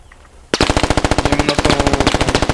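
Machine-gun fire in the video game Squad: a sudden, loud, rapid burst of evenly spaced shots that runs on without pause after a brief quiet start.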